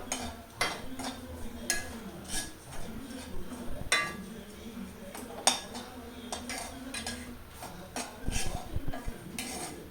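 A spoon stirs and scrapes mushroom curry masala with ground pepper in a pan, making repeated metallic clinks and taps at an uneven rhythm, close by, with a voice talking over it.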